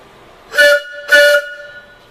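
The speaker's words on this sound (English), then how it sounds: "So right now I'd like to show you how the whistles sound." Two loud, steady blasts from homemade steam whistles, each about a quarter second long with a short gap between, clear harmonic tones over quiet background hiss.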